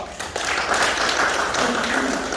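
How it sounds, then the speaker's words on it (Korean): A room full of people applauds a brother at an opening ceremony for a Daegu–Gyeongbuk logistics center, with steady dense clapping throughout, moderately loud and close. "이래 형제한테 박수 부탁드립니다"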